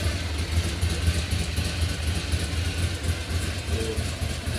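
A modified motorcycle, built from an ordinary bike into a Ducati Monster Desmosedici-style machine, idles with a deep, bassy exhaust rumble that stays steady and close throughout, with no talking.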